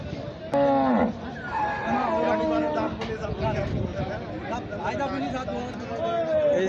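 Cattle and bulls at a busy Eid-ul-Adha livestock market in Bamundi Bazar, Meherpur, let out a loud nearby moo and further lowing calls over the steady chatter of a crowd.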